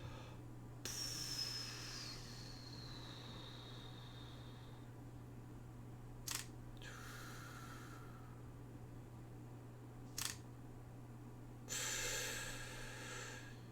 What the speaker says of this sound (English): breathing in as you go up, breathing on the pause